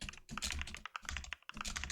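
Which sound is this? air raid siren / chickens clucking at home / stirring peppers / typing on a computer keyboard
typing on a computer keyboard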